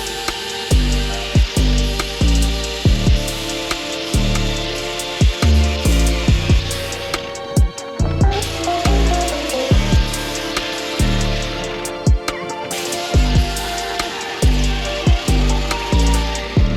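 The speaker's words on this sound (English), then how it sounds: "I'm gonna dress this with the flap wheel" A flap wheel on an angle grinder dresses welds on a patched floor pan of a Foxbody Mustang, a loud whine in repeated short passes with brief pauses between strokes.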